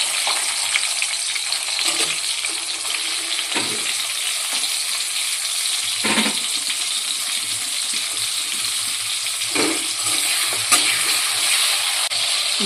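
Chopped tomatoes frying in a pan for spicy veg pasta, a steady close hiss and sizzle with occasional soft stirring clatters, no voices.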